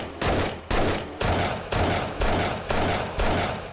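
SMG fire in the 7 Days To Die Alpha 19 video game: seven sharp, loud shots at an even pace of about one every half second, each followed by a short decaying tail.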